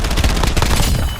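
Rapid Warzone gunfire crackles in a loud, dense burst of overlapping shots, close and continuous with no talk over it.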